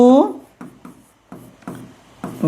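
Pen strokes during a maths class come as a series of short scratchy bursts at an uneven pace, with a voice heard briefly at the start.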